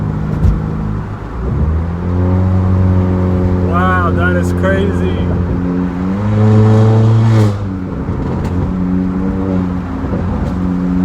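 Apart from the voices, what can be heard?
Honda Accord 1.5T turbo accelerating in sport mode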